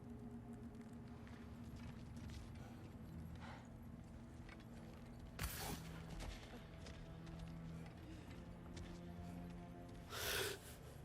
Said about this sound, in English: I hear, like, this breathing